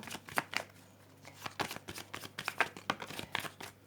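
Tarot cards are shuffled by hand in a rapid, uneven series of crisp riffling flicks and soft slaps, close and fairly quiet, with no talking.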